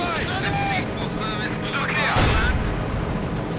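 Artillery fires a volley in the Company of Heroes 2 video game, booming heavily amid dense battle noise, with a commentator talking over it throughout.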